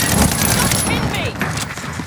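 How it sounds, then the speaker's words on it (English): Gunfire in Call of Duty Warzone during a late-match fight as the gas closes in, a dense, continuous rattle of rapid shots that stays loud and busy throughout, with a voice talking over it. "They're shooting at me."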